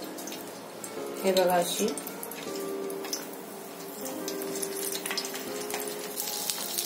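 Green chillies for stuffed coconut chillies are laid one by one into a thin film of hot oil in a pan over medium flame, giving a soft, steady sizzle and crackle beneath a voice.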